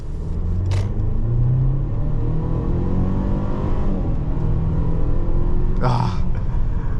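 A 2022 Mercedes-Benz GLC 300 accelerating in a light pull, its engine a steady, close rumble heard from inside the cabin, rising gently, with two brief higher bursts of noise standing out.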